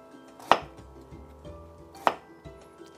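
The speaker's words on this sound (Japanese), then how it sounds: "薄切りにして重ねて、でシャキシャキシャキとこうまた薄切りにしてもらうと" A kitchen knife slices thinly through daikon radish, giving two crisp, distinct cuts about a second and a half apart against a quiet room.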